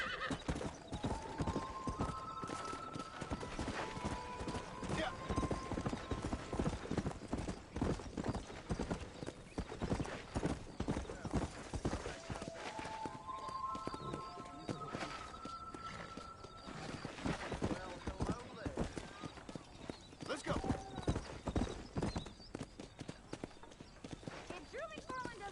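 A horse's hooves clip-clop steadily through a Western ranch setting in the video game Red Dead Redemption, with two clear whinnies rising over the hoofbeats and a voice talking throughout.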